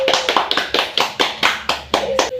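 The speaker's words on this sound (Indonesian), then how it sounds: "Tepuk tangan dulu." Children in a primary school classroom clapping their hands in applause, a rhythmic series of about nine sharp group claps, loud and close.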